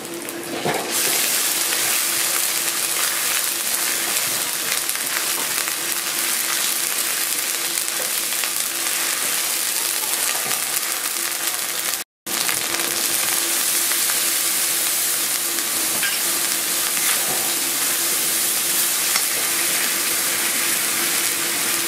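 Garlic and ginger paste fries in a pan with a loud, continuous sizzle that stays steady, apart from one very brief dropout midway.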